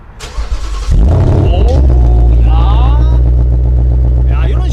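A stock, naturally aspirated Ford Mustang 5.0 V8 cranks and fires after a second, then settles into a loud, deep, steady idle close by, with some talk over it.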